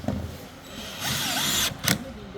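A power driver whirs in short bursts while driving long screws into a TV stand (model TV1502), with a rising motor whine and a brief second burst near the end.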